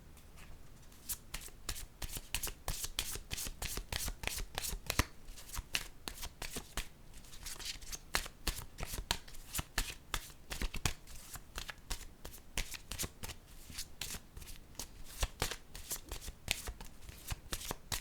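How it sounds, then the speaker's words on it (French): Oracle cards shuffled by hand in close, rapid riffling bursts that repeat with short pauses, faint and continuous, ending as a card is drawn. "Je pense que je vais piger une carte rose."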